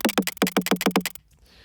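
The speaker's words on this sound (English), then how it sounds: "which kind of sounds like a vinyl spin back sound" A synthesized vinyl spinback built from drums made of skateboard sounds, using a pitch-bend ramp: a rapid, close string of about seven punchy hits, then an abrupt cut to a faint tail.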